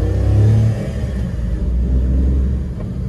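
A Suzuki Wagon R whose engine vibration has been fixed, heard from inside while driving: a steady low engine rumble and road drone, briefly louder near the start, then settling into an even hum.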